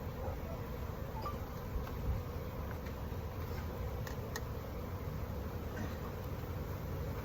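Agitated honey bees swarm around an open hive during an inspection, a faint, steady, dense buzz with occasional soft ticks and no voices.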